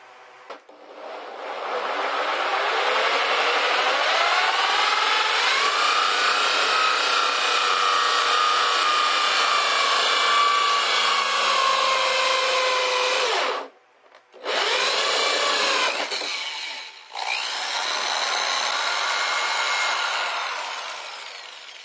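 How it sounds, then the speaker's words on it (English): A power drill spinning a hole saw through material for a DIY soda can solar heater, a loud steady grinding whine with rising pitch, briefly stopping twice before resuming, no talking. "And then we'll drill this out with a hole saw and install it."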